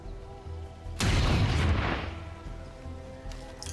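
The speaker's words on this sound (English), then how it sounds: "Let's start shooting that." Weapon fire in XCOM 2: a single heavy, booming burst crashes in over a quiet ambient hum and rolls on for about a second before slowly dying away.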